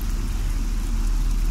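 Rain in Fallout 3, a steady broadband wash of falling rain with a low rumble underneath, continuous and fairly loud throughout.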